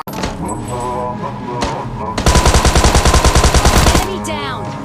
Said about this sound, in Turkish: Abi aşağıdan silah sesi geliyor.